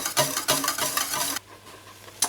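Milk and egg pastry cream is stirred in a saucepan over medium heat, making quick rhythmic scraping strokes close up for about a second and a half before going quiet.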